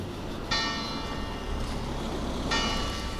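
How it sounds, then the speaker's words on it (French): Church bells ring out in two clear bursts, starting about half a second in and again near two and a half seconds, with a rich metallic shimmer lingering over a steady outdoor background hum. "Je me suis fait griller par les cloches."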